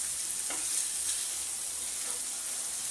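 Mawa melts in a pot over heat while being stirred, a soft continuous sizzle with faint scraping strokes of the spoon against the metal, quiet and steady throughout without any voices.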